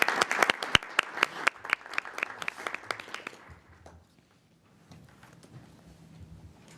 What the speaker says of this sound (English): Let's give our first panel a round of applause.